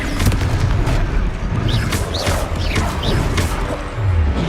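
Booming spell explosions from the Confringo curse in Hogwarts Legacy burst repeatedly during a loud fantasy battle, heavy low rumbles layered with crashes and whooshing effects, with no speech over them.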